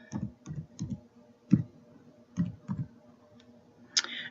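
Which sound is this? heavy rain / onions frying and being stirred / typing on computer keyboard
typing on computer keyboard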